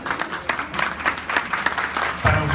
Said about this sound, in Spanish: Para ustedes el aplauso por haber respondido al llamado